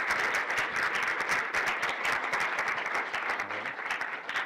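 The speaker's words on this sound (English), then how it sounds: "Round of applause." Dense, steady applause from a hackathon awards audience fills the whole stretch, many hands clapping at once at a constant loudness with no pause.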